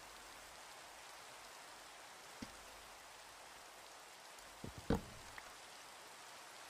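Steady, faint rainfall in Minecraft hisses evenly throughout, with a couple of soft knocks near the end and no talking.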